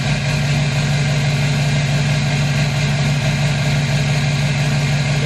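A loud truck engine idles steadily just after a cold start, a close, continuous low rumble with a strong steady hum and no variation in rhythm, nothing else heard.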